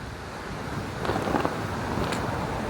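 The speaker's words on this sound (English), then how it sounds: "Oh my gosh, it's so windy." Gusty outdoor wind buffets a microphone with a loud, rumbling roar that swells in bursts over a few seconds.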